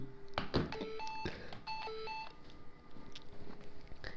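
A phone dials out with a sequence of clear electronic keypad tones and beeps, moderately quiet, with laughter and talk around it.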